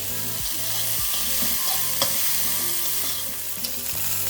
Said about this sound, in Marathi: पाच एक मिनिट तरी परतायची अर्धी शिजली पाहिजे